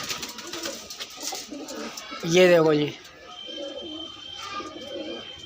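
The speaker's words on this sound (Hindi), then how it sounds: "200 में मिल रहे हैं तुम्हें ऐसे कबूतर।" A pigeon coos loudly nearby in a short rolling burst, while someone talks before and after it.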